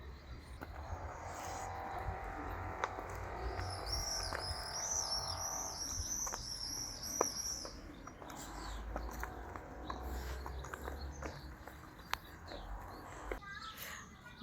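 Birds chirp and tweet in a summer park, with high repeated trilling calls and crickets buzzing beneath, plus faint children's voices and other ambient noise.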